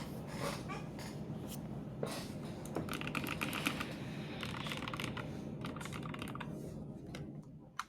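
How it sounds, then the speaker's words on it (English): Keys clatter steadily on a computer keyboard during a Roblox gaming session, a dense run of close, quick taps over a constant hum of background noise. "my keyboard, it sounds better"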